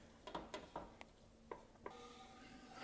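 Drained mild Rotel tomatoes stirred into softened vegetables for a crawfish pie, with soft irregular spoon scrapes and clinks against the pot over a faint low sizzle, quiet and close, no talking.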